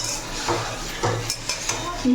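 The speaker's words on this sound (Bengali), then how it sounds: "পেঁয়াজ টমেটো ডিমটাকে নাড়তে হবে" Onion, tomato and egg stirred in a large kadai, a few scraping, clinking strokes of a spoon against the metal over a soft background sizzle.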